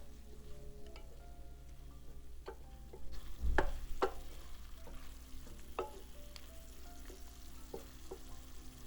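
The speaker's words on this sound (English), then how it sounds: "Stir to let the seasoning ingredients evenly coat the meat." A spoon stirs seasoned beef with salt in a pot, giving soft scraping and scattered clinks over a quiet sizzle, with one louder knock partway through and no talking.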